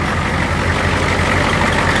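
A 1983 Ford 6.9 diesel engine running on ketchup, idling with a steady, loud low rumble and an even mechanical clatter, close and uninterrupted.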